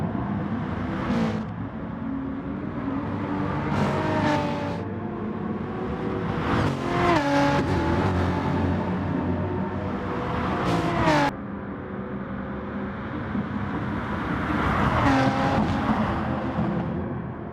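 A BMW race car engine in GT Sport screams through gear changes, rising and falling revs with sharp shifts and occasional passing cars, loud and close with no talking.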